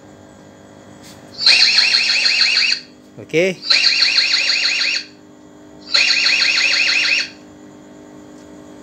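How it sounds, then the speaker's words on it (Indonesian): Alarm on a custom backup center for a wireless CCTV camera sounds in three loud, pulsing electronic bursts with short pauses between them, and a brief spoken word falls in one gap. "Kemudian saya akan buat alarm nih."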